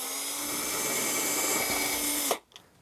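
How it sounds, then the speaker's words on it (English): A power drill whines loudly and continuously at close range for about two seconds, drilling through model railway roadbed, then abruptly stops, leaving a brief clatter. "So I'm going to drill a hole right on through"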